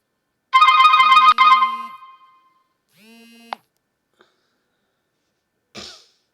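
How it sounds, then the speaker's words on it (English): A phone ringtone plays loudly in a short melodic burst, then goes quiet, with a brief second chirp and a faint click afterward; no one speaks. "Just a phone call there, sorry."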